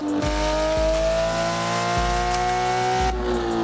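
A loud, close engine note from Ken Block's Hoonipigasus Porsche in Assetto Corsa holds a sustained high drone, broken by several low thumps of gear changes spaced about a second apart.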